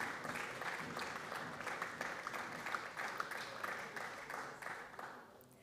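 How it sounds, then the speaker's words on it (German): An audience applauds after a speech on a bioeconomy strategy for Mecklenburg-Vorpommern, sustained, fairly soft and even clapping from a seated crowd that tapers slightly toward the end, with no voices on top. "Applaus"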